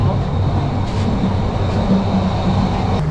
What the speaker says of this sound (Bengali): এখন ট্রেনের স্পিড অনেক বেড়ে গিয়েছে